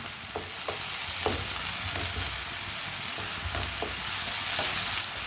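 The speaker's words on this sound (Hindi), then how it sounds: "ऐसे ही चम्मच चलाते हुए पकाना।" Radish curry with tomatoes cooks in a pan with a steady sizzling hiss, as a spoon stirs and taps against the pan in occasional soft knocks, close and continuous.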